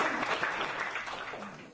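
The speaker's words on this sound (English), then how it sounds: "So round of applause for those guys for the sponsorship" Short, quiet clapping comes from a small crowd at a Big Data Week evening event in London, a soft patter that thins out toward the end.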